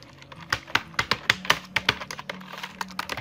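Keystrokes on a computer keyboard while typing Bangla text in Microsoft Word 2010, about a dozen sharp clicks in an uneven rhythm, close and moderately loud over a faint hum, with no talking.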